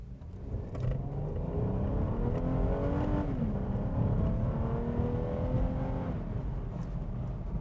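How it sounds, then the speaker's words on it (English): A car accelerates hard, the engine note climbing steeply, dropping briefly at a gear shift, then rising again under a constant road roar. "I'm going to accelerate as hard as the car will accelerate, so foot to the floor."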